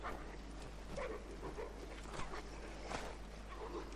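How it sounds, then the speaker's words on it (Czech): Two dogs fight in the snowy world of Assassin's Creed 3, giving off low snarls, yips and whimpers in short bursts over steady game ambience, at moderate distance. "Tady se perou dva psy."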